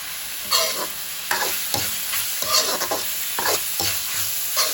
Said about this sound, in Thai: เราจะผัด